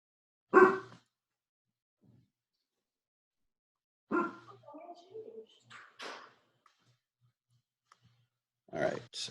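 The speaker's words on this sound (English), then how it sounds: "My dog was barking at a neighbor getting his mail." A pet dog barks at a neighbor collecting his mail, a sharp bark up close at the start and more barking near the end, with speech-like sounds in between.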